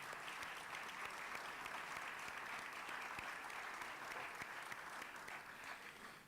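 A conference audience at CEPAL in Santiago, Chile, claps steadily, a continuous even patter of many hands, moderately loud throughout with no speech over it.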